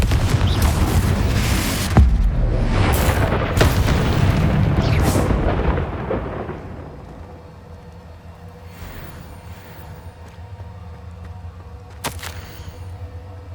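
Spell blasts and explosions from the video game Hogwarts Legacy boom loudly in rapid succession for several seconds, then fade to a quieter rumble with one more sharp blast near the end.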